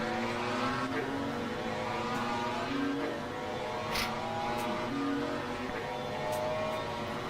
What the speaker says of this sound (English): that Ferrari hasn't got much of a engine sound, does it?